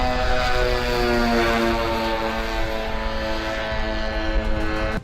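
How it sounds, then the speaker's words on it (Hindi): A Hezbollah drone droning after launch, a loud steady propeller-engine buzz with strong tonal harmonics that slowly shift in pitch, continuous for several seconds with no voices. "हिजबुल्लाह के दो लड़ाके एक ड्रोन को लॉन्चर में फिट करके उसे फायर कर देते हैं"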